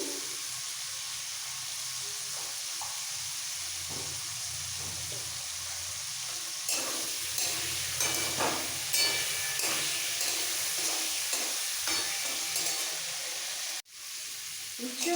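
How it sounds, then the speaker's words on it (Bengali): Bitter gourd frying in hot oil for a coconut sukto makes a steady broadband sizzle and hiss. The sizzle runs the whole time and turns brighter, with scattered crackles, partway through, then cuts off sharply near the end. "সব শেষে উচ্ছেটাকে ভাজবো"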